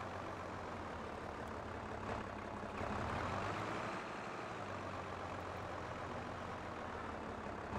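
A tractor engine drones steadily in a farming video game while it works with silage bales and a trailer, a continuous low rumble that swells slightly for a moment and never stops.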